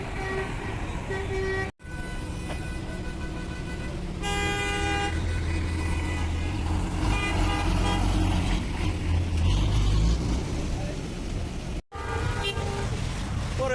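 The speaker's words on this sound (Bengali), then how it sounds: "এত বাস কেন এখানে রাস্তাতে তো পুরো জ্যাম হয়ে রয়েছে" Heavy road traffic jam with many buses near Mohakhali bus terminal: repeated horn toots and honks over a continuous rumble of idling and creeping engines, with faint voices in the background.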